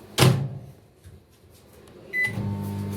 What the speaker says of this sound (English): So let's keep it in the microwave.